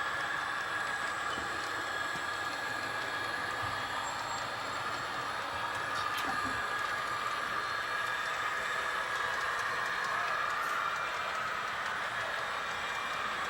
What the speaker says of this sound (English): Train is now coming into Nukesack.